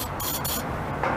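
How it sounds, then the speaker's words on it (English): A rust protection spray can hisses in short, close pulses, with a brief pause between bursts. "So here I'm using this spray."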